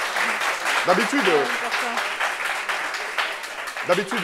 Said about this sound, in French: On applaudit pour elle, pour ça.